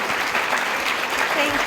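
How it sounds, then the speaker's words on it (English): An evening audience claps for poet Ada Limón, with dense continuous applause filling the hall and a voice speaking over it. "Let's have another round of applause for her."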